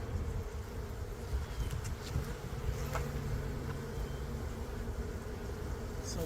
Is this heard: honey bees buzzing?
yes